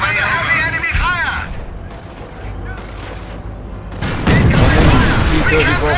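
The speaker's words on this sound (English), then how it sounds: "Heavy enemy fire!" Heavy gunfire and artillery blasts in the World War II strategy game Company of Heroes, during an Operation Market Garden mission: dense, continuous booms and shots that swell louder near the end, with voices speaking over the battle.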